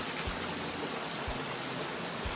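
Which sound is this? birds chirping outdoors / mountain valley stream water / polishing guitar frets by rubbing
mountain valley stream water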